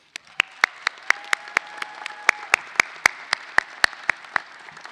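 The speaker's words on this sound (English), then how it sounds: "Please join in me applauding our Touro faculty." An audience applauds the faculty at a Touro University College of Education and Health Sciences commencement ceremony: a few loud, evenly spaced claps stand out close by over a softer, steady wash of clapping from the crowd.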